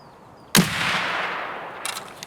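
A single sharp rifle gunshot fired at long range in Escape from Tarkov, a loud crack with a reverberant tail that fades over about two seconds, followed by a faint second report near the end.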